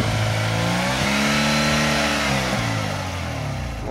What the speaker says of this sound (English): Why are you using so much throttle